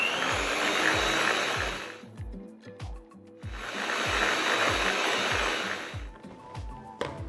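An electric mixer beats custard into buttercream for a tonka caramel macchiato macaron filling, whirring loudly in two sustained bursts separated by a short pause, with soft rhythmic knocks underneath.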